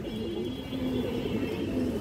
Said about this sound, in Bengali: পুতুলের মতো মাদি কবুতর